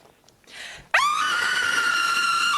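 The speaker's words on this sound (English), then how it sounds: "So I am going to spend the next minute screaming." A woman lets out a sudden loud, sustained scream that starts sharply just under a second in and holds steady at full strength to the end, after a brief breathy sound.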